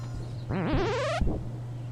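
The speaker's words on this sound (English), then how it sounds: "we should probably ring the doorbell" A doorbell in the video game 2064: Read Only Memories rings as a short electronic chime whose rising, warbling tone lasts under a second over a low steady hum, followed by a faint brief echo.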